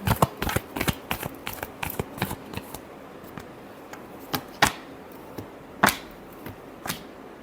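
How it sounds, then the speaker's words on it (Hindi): Tarot cards shuffled by hand: a rapid run of crisp papery slaps and riffles, then slower, scattered snaps with short pauses between, close and fairly loud. "Last shuffle."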